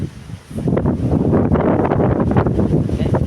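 Strong wind during a storm buffets the microphone with a steady, rumbling roar that swells and holds, no voices over it.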